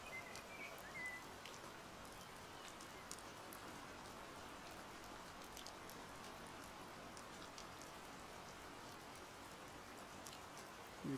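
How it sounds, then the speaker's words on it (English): Rain in the FlowScape video game falls as a soft, steady patter of many small drops, quiet and unbroken throughout. "we can make it rain"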